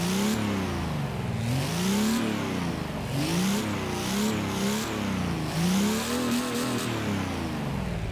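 A Nissan Titan Warrior pickup with a 5-litre Cummins turbo diesel V8, driven in the Forza Horizon 3 racing game, revs loudly and continuously, its engine pitch climbing and dropping in repeated surges with no voices over it.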